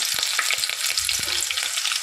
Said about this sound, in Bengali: এবার দেব কুচো করে রাখা পেঁয়াজ